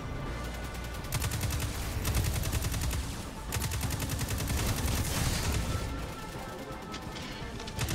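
Auto rifle in Destiny 2 firing in rapid sustained bursts, a fast rhythmic crackle of shots with brief pauses between strings, loud and close amid other game effects.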